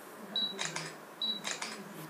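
An iPhone 5 camera shutter fires twice, each a short electronic beep followed by a crisp double click, close and clear against quiet room tone.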